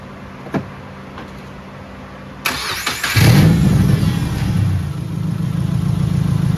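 A Subaru fitted with an eBay replacement engine cranks briefly, catches and settles into a steady running idle, loud and close after a quiet lead-in with a faint click.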